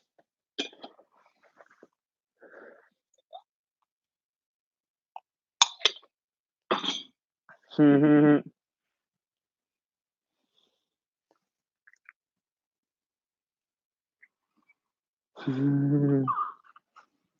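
Two bursts of a harsh, explosive sneeze-like sound, a few seconds apart and close by, amid quiet clicks and brief noises.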